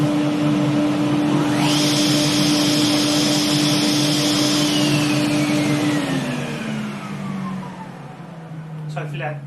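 An AC216TS table saw and a dust extractor run together: a steady motor hum, a rising whine as the blade spins up, a sustained high-pitched tone, then the pitch sliding down as the saw winds down.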